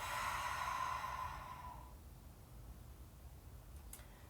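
A slow, deep breath during a stretching routine, a soft breathy sigh that fades after about two seconds into quiet background hiss.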